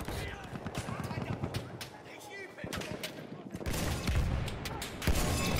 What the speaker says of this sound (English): Enemy hit with a rocket gun.